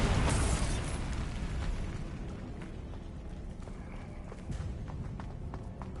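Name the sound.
Bombarda explosion spell, Hogwarts Legacy video game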